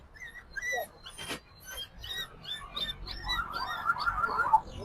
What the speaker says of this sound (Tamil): எங்க நாய் கத்தி நிக்குது?